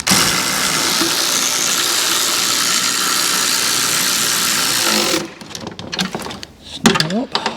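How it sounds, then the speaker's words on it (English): A power tool drives a screw into the chassis leg of a salvaged 2024 Fiat 500 Hybrid, a loud steady buzzing whir for about five seconds close by, then stopping into handling clatter and a voice. "Screw straight into the chassis leg."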